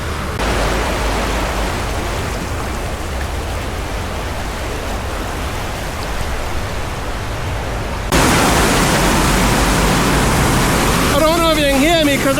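Pumped water gushes loudly at a Six Flags Fiesta Texas water feature, a steady broadband roar that jumps even louder partway through, with a voice briefly heard near the end.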